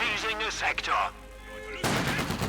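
Gunfire and sniper shots from a Company of Heroes 2 battle, bursts of shooting mixed with a voice talking in the first half, then a loud wash of firing near the end.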